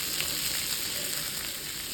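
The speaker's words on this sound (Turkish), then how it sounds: "Bu aşamada sürekli karıştıra karıştıra kızartıyoruz ki köftelerimizin her tarafı eşit şekilde kızarmış olsun" Vegetable meatballs sizzle steadily in hot oil in a pan while being stirred continuously, a dense, even crackle close by with no talking.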